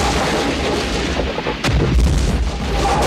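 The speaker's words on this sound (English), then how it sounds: "They were real explosions." Heavy film pyrotechnic explosions from a Vietnam War jungle battle scene, a dense rumbling barrage of booms with a sharp blast near the middle, loud and continuous without talk.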